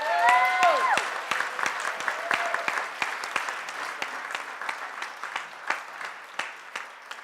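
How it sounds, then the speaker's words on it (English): Audience applause at a Special Olympics 2025 ceremony greeting Team Canada, steady dense clapping from a large crowd that gradually thins, with a brief voice or tone near the start. "Let's hear a round of applause for you."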